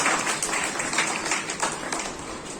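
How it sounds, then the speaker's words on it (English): An audience applauds a student at an Independence Day school celebration, a steady wash of many hands clapping at even loudness throughout. "Please give her a huge round of applause"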